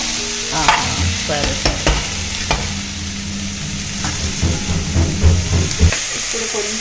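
Beetroot fry being stirred in a pan, with scraping spoon strokes over a steady sizzle and a brief spoken exchange in between.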